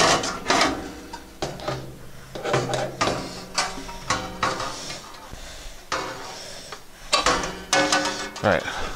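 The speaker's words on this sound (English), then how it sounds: "So we'll just take out these screws." Screws are taken out of a Napoleon Prestige 500 grill burner, producing repeated close metallic clanks, scrapes and ratcheting clicks in irregular bursts.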